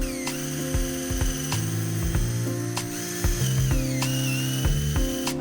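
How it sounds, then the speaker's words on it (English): Lag bolts are driven into wooden roof beams for an off-grid bathroom, a close mechanical whirring and ratcheting with repeated rhythmic clicks and pitch shifts, steady throughout with no voices. "I'm going to secure the beams for good, and I'm doing that with these lag bolts"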